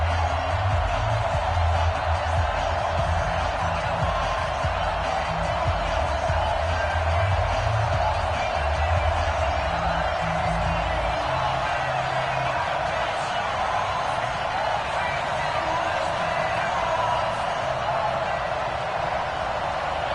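Continuous stadium crowd roar before a Tennessee Titans versus Houston Texans matchup in an EA Sports NFL game, a dense steady wash of cheering that stays even and loud throughout.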